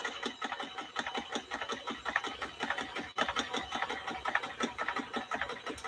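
A vintage Kenmore sewing machine runs at a steady pace, its needle mechanism giving a fast, even mechanical clatter, close up and continuous for several seconds.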